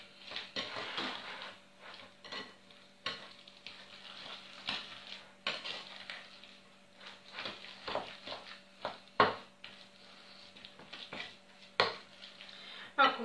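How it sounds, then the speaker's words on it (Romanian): Christmas cookie dough made with lard, walnuts and raisins is stirred in a bowl, giving soft, irregular scraping and clinking strokes, close by and fairly quiet. "Le amestecăm bine, bine totul."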